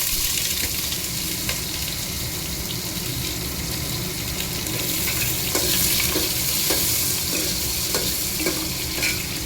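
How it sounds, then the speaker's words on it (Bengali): Vegetables fry lightly in a pan with a steady, even sizzle and hiss, while scattered clicks and scrapes of stirring sound close by and no one speaks. "এটাকে ভেজে নেবো সবজিটা একটু হালকা করে।"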